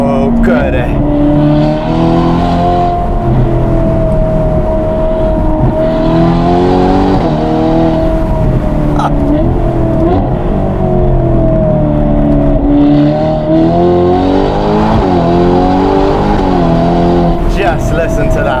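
Novitec-tuned Ferrari Portofino M with 688 hp, its exhaust roaring loud and close through sustained revving, rising and falling engine tones across the whole stretch, with a few sharp crackles near the end.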